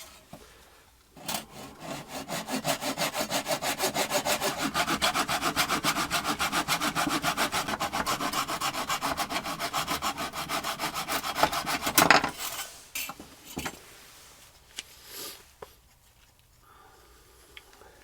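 A hand saw cuts through wood trim in a miter box in fast, even back-and-forth strokes for about ten seconds, close and rasping, then a few scattered knocks and shuffles.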